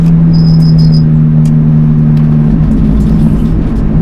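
A Lotus Exige S drives hard around the Lédenon race track during a trackday, its engine a loud, steady in-car drone with a faint high whine, while another car overtakes.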